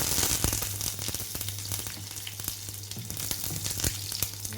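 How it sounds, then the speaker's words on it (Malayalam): Dried chillies and curry leaves sizzle in hot oil after mustard seeds, for a brinjal curry cooked in fish-curry style; a steady close frying hiss runs throughout with small crackles and a low hum beneath. "കടുക് കൂട്ടിയ ശേഷം നമുക്ക് മുളകും കറിവേപ്പിലയും ഇട്ട് കൊടുക്കാം"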